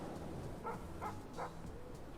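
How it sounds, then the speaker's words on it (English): A dog barks three times at a steady pace, moderately distant, over faint background noise. "dog bark,"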